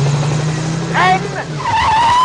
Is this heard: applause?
no